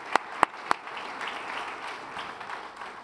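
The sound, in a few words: church congregation applause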